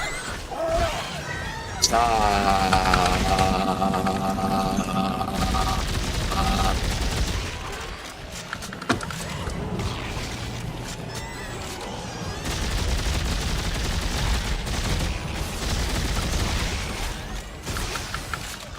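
Gunfire from the video game Dead Space 3 as necromorphs are shot, heavy bursts and booming impacts under a dense game soundtrack, with someone talking over much of the action.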